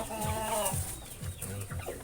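Pullet chickens nearly five months old clucking in a farm setting, a series of low, rhythmic clucks repeating about every half second, close and moderately loud.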